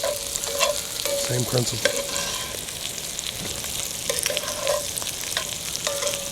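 Mushrooms and onions fry in a pan on a home stove with a continuous crackling sizzle, broken by occasional scrapes and clinks of stirring, close and steady. A voice speaks briefly.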